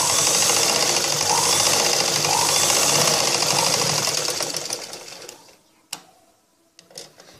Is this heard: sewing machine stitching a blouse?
yes